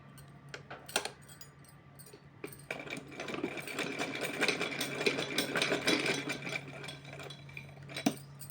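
A sewing machine runs steadily as it stitches the edge of a small doll dress for Kanha ji trimmed with golden cord, with a light whirring rhythm and a few sharp clicks near the start and end.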